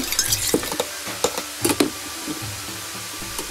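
A seasoning mix of salt, pepper, soup or water and sake is stirred in a small bowl: a string of light clinks and scrapes, close and fairly crisp, sparse toward the end, with no talking.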